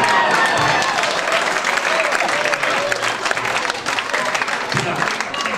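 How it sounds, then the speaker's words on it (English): A comedy-club audience applauds a comedian's joke, a dense, steady wash of clapping with some cheering mixed in, filling the room throughout. "Would you join me in a round of applause for this?"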